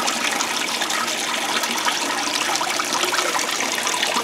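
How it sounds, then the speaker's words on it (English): Water splashes continuously over rocks in a freshly built backyard garden waterfall, a steady, loud, broadband rush with no pauses and no voices. "I let the water splash around on everything for a little while"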